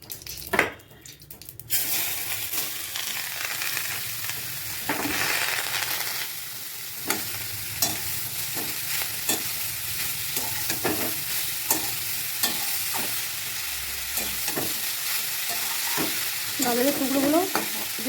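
Grated carrots frying in ghee in a wok with cardamom and cinnamon, a constant close sizzle punctuated by irregular spatula scrapes and knocks, plus a brief rattle at the start.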